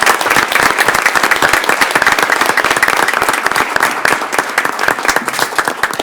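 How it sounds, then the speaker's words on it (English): A large audience at a Brevard Public Schools awards ceremony bursts into dense, steady applause, with close-packed clapping that holds at full strength for the whole six seconds and no talk over it. "Please join me in a round of applause to honor their achievements."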